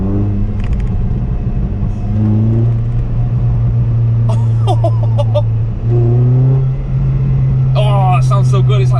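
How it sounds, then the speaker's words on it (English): A car engine fitted with a non-resonated Milltek exhaust, 4-1 manifold and sports cat revs up and down several times, its exhaust burbling and crackling between rises, with short bits of talking. "You get this nice kind of burbles and crackle sounds."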